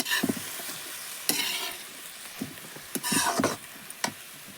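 Potatoes fry in a hot pan with a steady sizzle, broken by repeated scraping stirs of a utensil against the pan, close and fairly loud with no talking.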